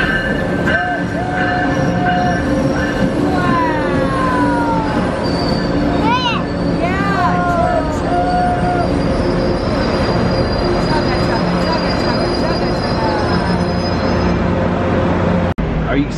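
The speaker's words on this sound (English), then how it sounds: "Look at the train." A train rolls past on the tracks with a loud rumble, high metallic wheel squeals rising and falling, and voices talking over it.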